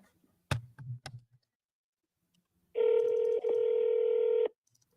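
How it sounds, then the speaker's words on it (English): Telephone dialing: a few soft taps, then a steady electronic tone that holds for under two seconds with a brief break in the middle, alone in a quiet room. "I'm gonna call him one more time."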